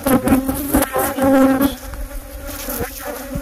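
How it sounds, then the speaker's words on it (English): Bees buzzing loudly from honeycomb built inside an RV wall, a dense steady droning swarm close by with some wavering pitch, no talking. "Well, solid bees."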